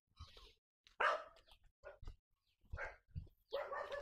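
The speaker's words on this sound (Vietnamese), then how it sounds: "xung quanh chó cũng hơi nhiều nên nó hơi ồn ạ" Several dogs bark around a rural garden house in Diên Hoà, Diên Khánh, Vietnam, in a few loud separate bursts at close to medium range with short pauses between them.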